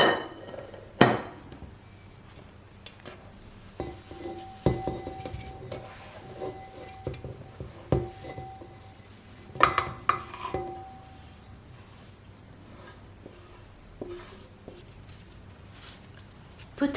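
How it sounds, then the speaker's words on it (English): Soft scraping, dull clinks and a few knocks come from moving a damp rice bran pickling mixture, about the softness of wet sand, into a pickling container, scattered irregularly over quiet room tone with no talking. "Then transfer the mixture to the pickling container."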